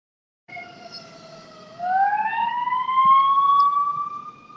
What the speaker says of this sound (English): And with the ambulance as an outro